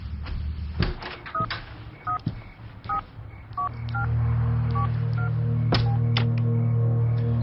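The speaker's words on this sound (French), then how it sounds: "Je suis en train d'essayer de t'appeler." A telephone keypad being dialed, a quick run of separate DTMF beeps at irregular intervals over a low steady hum, followed by a sustained tone near the end, in a tense domestic drama scene.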